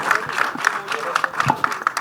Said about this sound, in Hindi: जोरदार तालियां चाहिए मुकेश